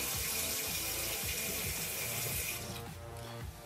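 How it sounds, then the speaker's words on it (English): Water gushes steadily from a tap, a loud continuous splashing stream that lightens slightly near the end. "Everybody knows that water comes from the tap."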